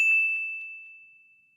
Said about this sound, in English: Then another notification appeared.